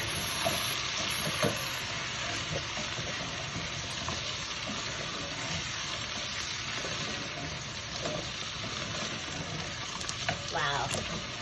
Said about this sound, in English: Pinch of turmeric. Have to slightly stir it.